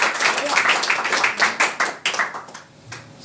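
A church congregation claps during a sermon, a loud round of hand claps that thins and fades out within a few seconds, with talk underneath.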